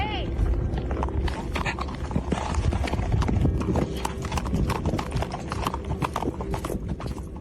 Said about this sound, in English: his horse senses danger and quickly runs out of there